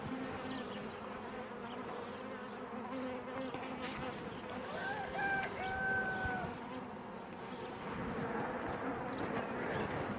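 Dense, steady buzzing of many honeybees swarming close around an opened hive frame of honey and bee bread, continuous and fairly loud, with a faint bird or chicken call briefly rising above it.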